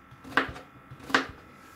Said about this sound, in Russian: порежу кабачок таким крупным кубиком